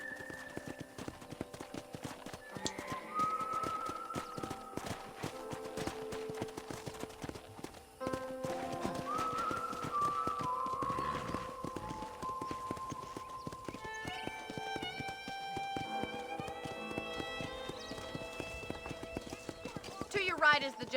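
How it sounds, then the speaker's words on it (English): Horse hooves clip-clop steadily on a ranch in the Red Dead Redemption video game, with occasional whinnies and game music, while a character's voice talks over the riding. "let's see if you can still ride a horse."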